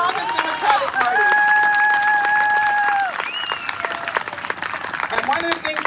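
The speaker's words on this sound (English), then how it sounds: "can we please give a round of applause for Melinda Levon, who is the chair of Douglas County Democrats" A political rally crowd claps and cheers for a county party chair, loud and dense, with a sustained whoop and shouts riding over the applause.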